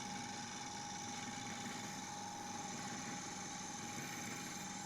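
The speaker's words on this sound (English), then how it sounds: "That's now turned round and in the chuck. We're turning at 1400 RPM." Wood lathe spinning a piece of yew held in a chuck at 1400 RPM, a steady, quiet motor hum with a constant whine and faint mechanical buzz, unchanging throughout with no talking.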